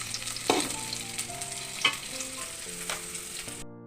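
Onions fry in oil for a Kerala eggplant upperi, a steady close sizzle broken by a few spatula scrapes and stirs against the pan.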